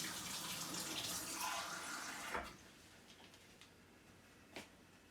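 Tepid water pours into a bowl of flour for a sourdough starter, a steady close trickle for a couple of seconds that stops abruptly, followed by a few faint taps.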